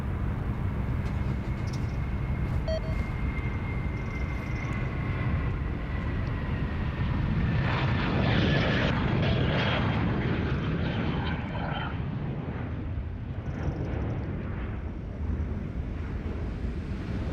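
An airliner landing at Sydney Airport on runway 34 left during rush hour, a steady distant engine roar with rising whine under constant wind noise on the microphone, swelling in the middle then fading.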